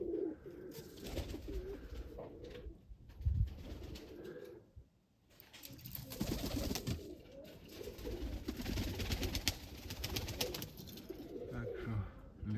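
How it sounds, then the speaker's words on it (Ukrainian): Domestic pigeons coo and flutter close by in a loft, soft throaty calls and wing flaps repeating throughout, with a brief quiet dip midway. "Так, ну, голуби хай літають."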